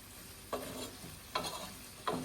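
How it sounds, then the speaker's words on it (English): Vegetables being stirred in a cooking pot, with three distinct spoon scrapes spaced evenly over a faint sizzle, fairly close and quiet. "we're gonna give this a good mix"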